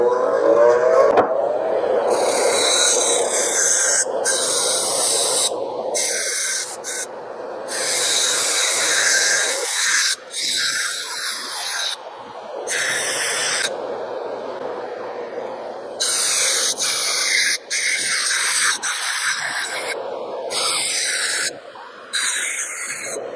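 A buffing wheel spins at about 1,000 RPM in a woodworking shop while a dust collector runs, making a loud, steady broadband whir and hiss that holds for the whole stretch with a few brief dips.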